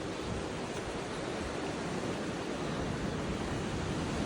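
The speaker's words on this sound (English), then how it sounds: "This wind is strong, bro." Strong wind blowing outdoors during a Texas flood, a steady, loud broadband roar that buffets the microphone without letup and carries no speech.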